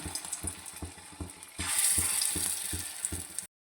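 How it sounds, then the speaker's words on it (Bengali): Large lentil fritters (daler bora) fry in hot oil, a steady close sizzle with rhythmic stirring taps that swells louder midway as more batter goes in, with no voices. "তেলটা গরম হয়ে গেছে, তাই আমি একটু একটু করে এখন একটু বড় সাইজের করে বড়াগুলো ছেড়ে দিচ্ছি"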